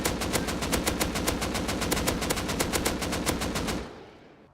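An assault rifle in the game Rust fires full-auto, a rapid even stream of about two dozen loud shots that stops abruptly, followed by a short fading tail.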